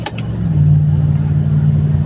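A car on the road during a massive wind storm in Washington, its engine and road noise holding steady and fairly loud inside the cabin after a couple of brief knocks at the start.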